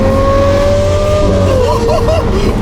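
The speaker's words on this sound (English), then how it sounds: "That exhaust is like an F1 car" A supercar's high-pitched exhaust wails close by at full throttle, its tone climbing and wavering, loud and continuous.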